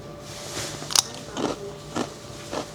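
Freeze-dried mango, compared against store-bought freeze-dried fruit, is bitten with a sharp close crunch followed by three evenly spaced chewing crunches, loud and alone with no talking.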